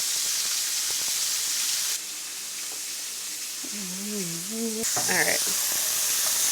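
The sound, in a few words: vegetables sizzling and steaming in a pan with oil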